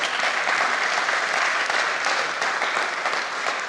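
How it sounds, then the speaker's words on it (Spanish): A church congregation applauds, with dense, steady clapping filling the room from start to finish and no voices over it. "Denle un aplauso al Señor."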